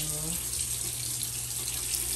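Tap water running into a sink in a hotel bathroom in Aruba, a steady hissing splash, close and constant, with a brief low hum at the start.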